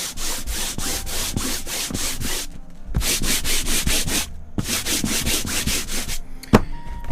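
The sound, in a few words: sanding canvas with 220 grit sandpaper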